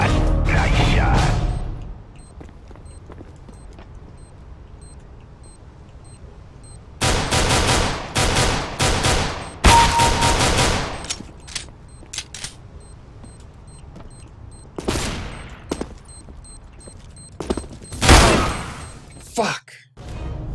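Rainbow Six Siege match on the Bank map with bursts of rapid automatic gunfire and single shots in clusters, separated by quieter stretches of game ambience.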